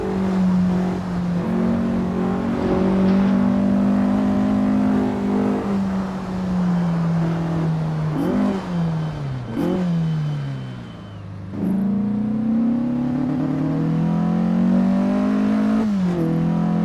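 A classic race car in Assetto Corsa on the Pescara 1957 road circuit, with long straights and town sections, drones through steady high-speed runs, its engine note sliding down on lifts and gear changes before pulling back up, loud and close.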